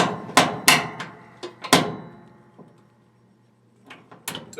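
A wrench tightens a nut on a replacement drain pump for a Maytag Neptune washer, giving a series of hard metallic knocks and clanks in uneven bursts. A quiet pause falls between the bursts before a few more clanks.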